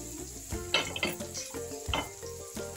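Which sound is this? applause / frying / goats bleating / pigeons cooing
frying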